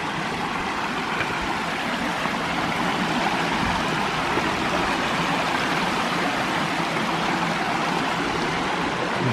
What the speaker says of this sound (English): Got a wonderful little cascade here.